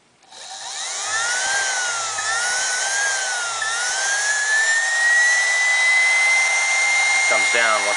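Small vacuum cleaner motor with shorted armature windings, run on 24V DC through the rotor brushes, whines loudly and steadily, its pitch rising as it spins up and then settling, with a brief clatter near the end.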